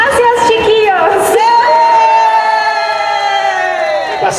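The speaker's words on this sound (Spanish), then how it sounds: "Tremendo aplauso para Yaya." A Comic Con Chile main-stage convention audience cheers and whoops in a loud, sustained roar, with a voice over a microphone briefly at the start.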